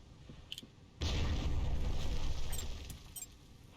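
A deep explosive boom from the shooter game Red Faction, where explosives blow apart buildings and terrain, erupting suddenly and rumbling loudly for a few seconds with scattered debris clinks before fading.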